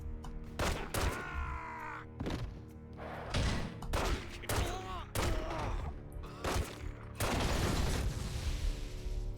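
Shotgun blasts fire in The Godfather: The Game, a run of loud, sharp booms spaced about a second apart with other game sounds mixed in between.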